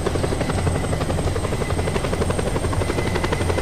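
Helicopter in the video game Just Cause 2, a loud steady rotor drone with rapid chopping pulses, holding close and constant throughout with no talk.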